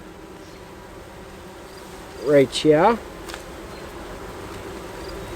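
A steady, faint hum of honey bees buzzing around an open hive while supers and a queen excluder are added, with someone briefly speaking close by mid-way.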